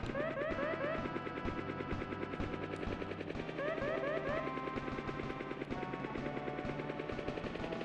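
Helicopter flying in the SNES game Pilotwings: a steady buzzing rotor drone with a repeating chiptune-like pattern layered over it, continuous and loud for the whole stretch, with no talking.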